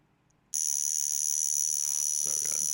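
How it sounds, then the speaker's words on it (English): A vintage Jaeger-LeCoultre Memovox mechanical alarm watch starts buzzing abruptly and keeps a steady, shrill, close-up tone, with faint rustling near the end. "in theory, we've already wound up the alarm, but we'll go ahead and move the time forward so we can actuate"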